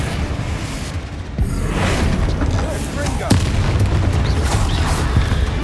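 Loud booming blasts from the Confringo fire spell in the video game Hogwarts Legacy, several heavy impacts over a dense rumbling roar, with a voice calling out during the blasts.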